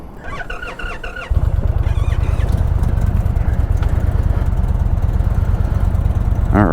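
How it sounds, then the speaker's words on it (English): An Indian 112 PowerPlus motorcycle engine cranks and fires up, quickly settling into a loud, steady, pulsing rumble close by, preceded by a brief clicking of the starter. "Let's start her up."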